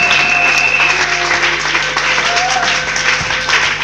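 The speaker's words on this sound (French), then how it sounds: "Jesus, clap for Jesus." A church congregation claps for Jesus during a service, a loud steady wave of applause running throughout with faint voices and tones mixed underneath.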